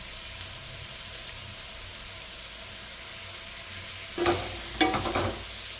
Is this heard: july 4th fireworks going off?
no